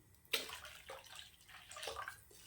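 Water splashes and pours into a pot of simmering Tamil dried fish curry (karuvattu kuzhambu) in a few uneven gushes, close by and fairly soft, with no talking.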